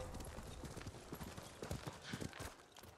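Horse hooves clip-clopping at a steady riding gait in Ghost of Tsushima, close and fairly quiet, with a faint whinny-like texture and no talking.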